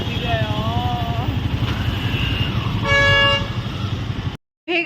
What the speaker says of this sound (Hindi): कितना ट्रैफिक है यार।